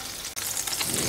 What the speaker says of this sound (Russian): Чеснок прожариваем буквально секунд 30-40.